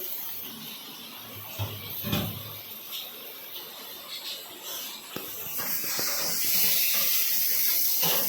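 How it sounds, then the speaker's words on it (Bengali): Potatoes with chillies and turmeric powder sizzle and hiss in a hot pan as they are sautéed, a steady close frying sound with occasional stirring bumps. "ভালো করে আলুটাকে লঙ্কাগুলো হলুদ গুঁড়ো দেওয়ার পরে আমি ভালো করে কষিয়ে নিচ্ছি"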